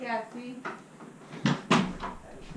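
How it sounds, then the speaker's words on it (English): A door in a log cabin is shut with two quick thuds close by, right after a voice speaks, and faint room noise follows. "She already shut the door on me as it is."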